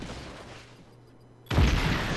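A grenade blows up in the open-world action game Just Cause 3, a sudden loud, broad boom that cuts in after a quiet stretch and rolls on as a heavy rumble.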